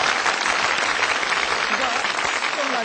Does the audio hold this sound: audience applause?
yes